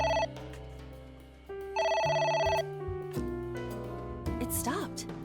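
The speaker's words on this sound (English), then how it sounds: "It won't stop ringing." A phone rings in the video game AI: The Somnium Files, repeated electronic ringtone phrases cycling in bursts over game music, with a voice briefly talking near the end.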